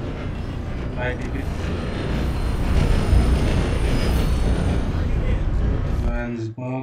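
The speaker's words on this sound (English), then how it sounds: "There should be a train." Train in the video game Red Dead Redemption 2, a steady loud rumble of rolling rail cars that swells toward the middle and cuts off near the end, with a short spoken phrase over it.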